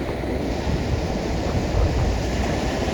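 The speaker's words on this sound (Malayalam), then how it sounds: "കടൽ നല്ല ഇളക്കത്തിലാണ്, കയറ്റം തുടങ്ങി തോന്നുന്നുണ്ട്" Rough sea waves breaking on the shore form a dense, continuous roar with wind buffeting the microphone, steady and loud throughout with no voices.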